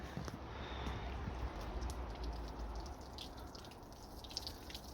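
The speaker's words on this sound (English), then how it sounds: "It's still dripping away, look." Water drips from the door trim of a B5 Passat onto the floor, a sparse patter of small close drops over a steady low background hiss.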